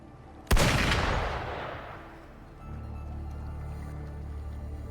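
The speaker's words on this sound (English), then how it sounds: "Gunfire! We've got intruders." In the video game Wuthering Waves, a single sharp, loud gunshot rings out after a quiet moment, then trails off in a long echoing decay before a low ambient hum takes over.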